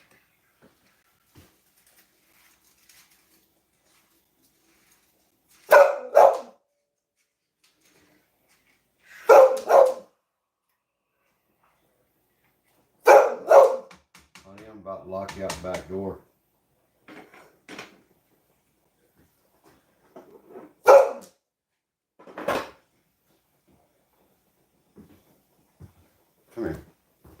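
A dog named Chanel barks indoors in short bursts of two or three sharp, loud barks spaced several seconds apart, with someone talking between them and a rattling clatter partway through.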